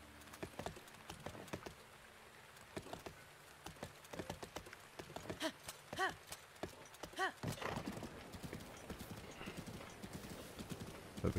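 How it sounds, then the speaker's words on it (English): Horse hooves clip-clop in a steady rhythm in The Legend of Zelda: Breath of the Wild, moving near and fairly loud through rain, with a brief whinny and scattered talk over the game audio. "Here's our magic horse."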